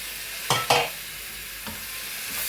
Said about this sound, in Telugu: ఇప్పుడు టమాటాలు కూడా వేసేద్దామండి